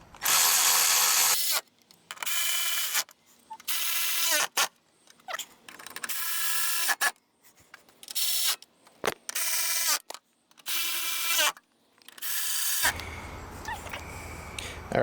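Power drill driving bolts on the front bumper of a 2019 Chevrolet Colorado, a series of loud, close bursts of whirring with short pauses between them, ending in a stretch of lower, rougher mechanical noise.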